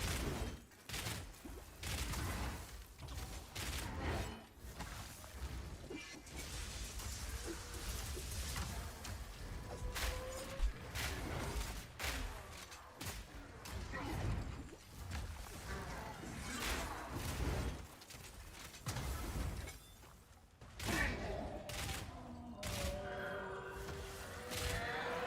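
A crossbow fires multi-shot volleys in rapid, machine-gun-like bursts during a Path of Exile boss fight, sharp repeated impacts and mechanical clatter packed closely together, with a voice talking over the action.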